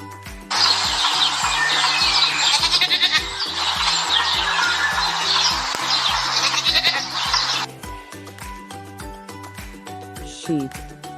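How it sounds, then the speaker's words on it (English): A goat bleats in one long, loud, wavering cry that lasts for several seconds. A steady music bed plays underneath. "goat,"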